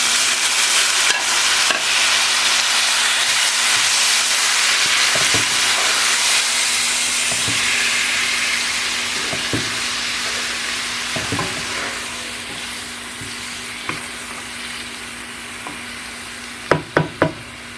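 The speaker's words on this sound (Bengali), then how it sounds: "এটা এবার এটার মধ্যে আমি একটু চাল কুমড়াটা ঢেলে দেবো" Ash gourd pieces fry and are stirred in hot oil. A steady, loud sizzle and hiss runs throughout, with scraping stir strokes at intervals and a few sharper clacks near the end. No one speaks.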